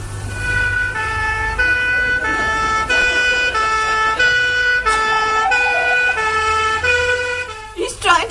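Loud two-tone police car siren alternating steadily between high and low pitches over a low engine rumble, in a British sitcom scene, ending with a brief clatter.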